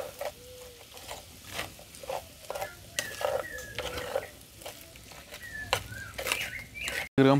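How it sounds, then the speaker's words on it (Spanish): Beef chorizo pieces and potatoes sizzle in a pan while a spoon stirs them, producing repeated close scraping strokes over a crackling fry. Faint high chirps come and go in the background. "Y lo voy a revolver."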